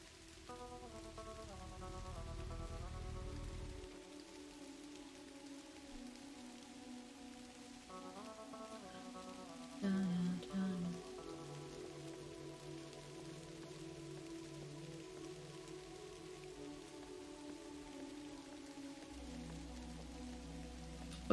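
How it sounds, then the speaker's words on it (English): Steady rain falls in the point-and-click adventure game Kathy Rain, a soft even patter running throughout beneath quiet game music with a brief louder sound midway. "Oh, it's raining here."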